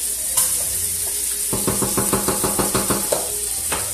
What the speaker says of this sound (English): I'm going to stir this rice up one more time